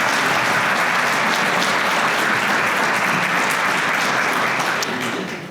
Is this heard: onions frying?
no